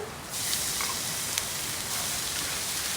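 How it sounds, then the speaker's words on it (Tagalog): Steady, soft hiss of rain falling outdoors, heard faintly from inside a kitchen, continuous and even with no voices. "Medyo maingay ngayon kasi maulan sa labas."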